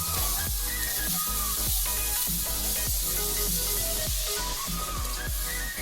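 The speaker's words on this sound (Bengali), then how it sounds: "পরিমাণ মতন জল দিয়ে দিলাম।" Water poured into a hot pan of paneer and potato curry sets off a loud, continuous hissing sizzle, dense and close, with a run of sharp bursts throughout.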